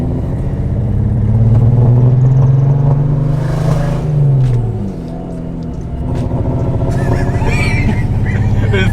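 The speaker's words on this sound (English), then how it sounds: "Definitely got a misfire, I'll tell you what." A Lexus LS400 engine with a misfire rumbles loudly nearby and revs up and falls back, its low drone broken by occasional sharp pops as it settles again.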